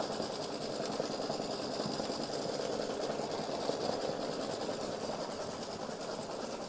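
Embroidery machine stitching free-standing lace turkey earrings, a steady rapid mechanical whir and clatter running unbroken at moderate level with no voices.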